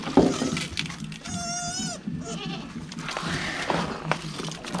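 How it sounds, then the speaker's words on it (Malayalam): A goat bleats nearby in a drawn-out, wavering call, followed by a shorter second bleat, set against steady background noise. "ആ അമ്മേൻ്റെ ആടല്ലത്."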